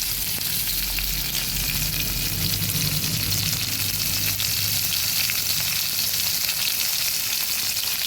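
A little oil sizzles steadily in a cooking pan for a winter-vegetable fish curry, an even, continuous hiss holding at one level throughout with no voices.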